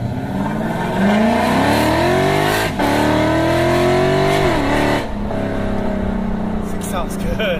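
2011 Lexus IS F with long tube headers, PP headers, an elbow intake and an exhaust cutout, its engine revving hard in rising sweeps that peak, drop briefly, then climb again before settling into a steady rumble, loud and close.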